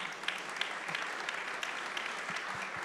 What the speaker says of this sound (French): Je vous propose de tous les remercier avec un round d'applaudissements.